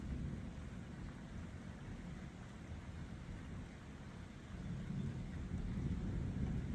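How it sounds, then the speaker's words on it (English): Rain falls steadily during a thunderstorm, a dense low rushing wash with distant rumbling thunder, swelling slightly louder near the end, with no voices. "And if you can hear the rain falling"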